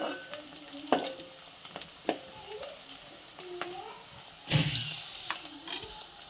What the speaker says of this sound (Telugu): ఈ ఉల్లిగడ్డలు అనేది గోధుమ రంగు వచ్చేంత వరకు ఉంచాలి